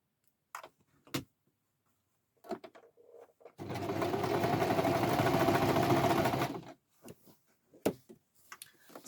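A sewing machine chain stitching fabric pieces runs in one steady, loud mechanical whir for about three seconds, framed by scattered clicks and handling noises before and after.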